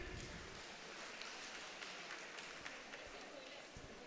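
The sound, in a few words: audience applause at Onam fest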